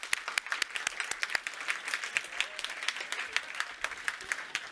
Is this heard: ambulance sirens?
no